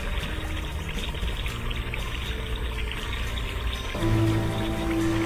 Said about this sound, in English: Below, the water finally flows under the bridge as it should.